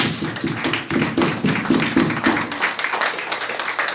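A few people clap in a quick, uneven rhythm, close and fairly dry, with sharp individual claps rather than a full crowd's roar.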